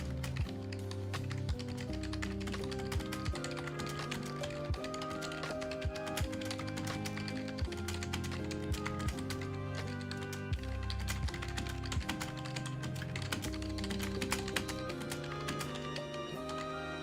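Fast typing on a computer keyboard during a typing test, a dense, rapid stream of close clicking keystrokes that runs continuously for over fifteen seconds over a steady background of tonal music or hum.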